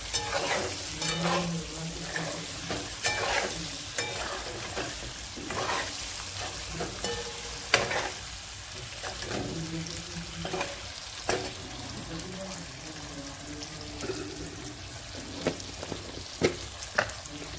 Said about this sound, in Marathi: परतून घ्यायचं मस्त परतून घेतल्यावर छानपैकी मासा लागतो